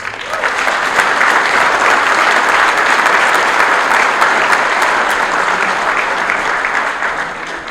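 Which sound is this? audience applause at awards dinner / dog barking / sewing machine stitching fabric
audience applause at awards dinner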